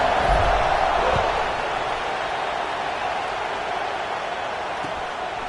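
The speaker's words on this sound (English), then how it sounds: "this crowd is buzzing after that last score" A college football stadium crowd keeps up a steady, dense buzz just after a score, a broad wash of many voices with a few faint thumps near the start and no clear words.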